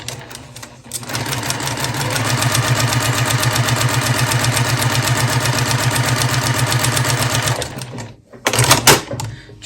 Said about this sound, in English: I'll just sew along that edge there again with my 1/4 inch seam allowance